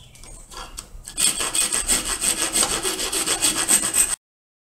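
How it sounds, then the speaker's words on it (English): Rasps and files smooth saw marks from a wooden R-10 slingshot, a loud, rhythmic scraping of repeated strokes that starts after a quieter rustle and stops abruptly. "we gotta file it. Got all our rasps and files out. I'm gonna try to get out all of these saw marks."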